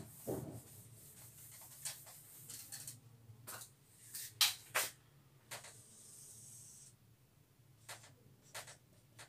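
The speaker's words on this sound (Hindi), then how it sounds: "मैं इस फॉर्मूले को रब कर देता हूं" A written maths formula being rubbed off a board in a Class 10 lesson: a run of soft scraping, brushing strokes that come in uneven bursts over a quiet room background, with no talking.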